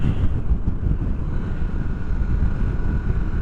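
A Harley-Davidson Pan America motorcycle cruising in fourth gear at about 49 mph and 4,000 RPM, with a steady, loud low engine drone mixed with heavy wind buffeting at the microphone throughout.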